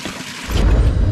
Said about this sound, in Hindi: यहाँ पे पानी गिर रहा है